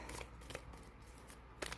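Tarot cards shuffled by hand in a quiet room, a few short, soft riffling bursts spaced apart with faint rustle between them.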